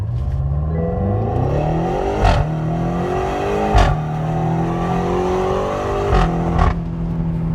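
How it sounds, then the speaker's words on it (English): A BMW X6 M with a 575 hp twin-turbo V8 and stock exhaust revs hard in a loud, deep drone, with pitch rising and falling through several sharp throttle blips and pops. "for a stock exhaust on a turbo car, this sounds amazing"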